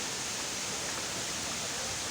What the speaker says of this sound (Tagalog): This is waterfalls.